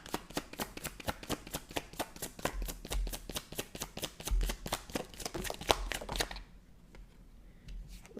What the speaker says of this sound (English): So I just want to pull a further card.